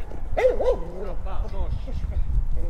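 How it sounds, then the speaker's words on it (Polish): A wild boar giving short dog-like yelps and whining calls outdoors, two quick rising cries then fainter grunting sounds over a steady background rumble. "Ja myślałem, że to jest pies. Nie zwróciłem uwagi, a tu dzik."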